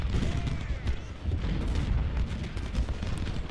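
Cannon and rifle fire in Ultimate General: Civil War, a continuous rumbling barrage of booms and crackling volleys with no clear pauses.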